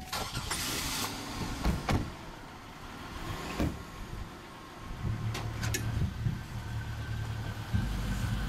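Payne's car with the engine running as a group drives off, a steady low rumble holding throughout with a few sharper knocks and clunks, nothing spoken.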